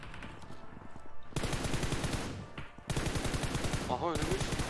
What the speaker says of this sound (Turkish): Soldan da sıkıyor bak